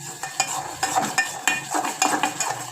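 Masala spices being stirred in a metal pot, a quick run of repeated scraping strokes, close and distinct, each pass catching the pot with a faint clink, no voices.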